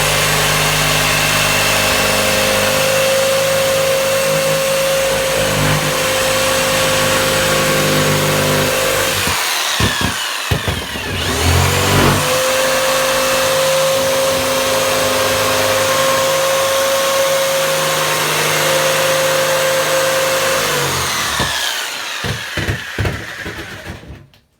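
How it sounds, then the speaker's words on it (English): A power saw cuts a hole in a wall for an Aiphone IXG flush mount kit, a loud, close motor whine in two long runs with a brief pause between them and short bursts near the end. "So what I'm going to do is I'm going to take the saw."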